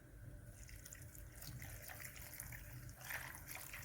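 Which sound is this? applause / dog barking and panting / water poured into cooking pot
water poured into cooking pot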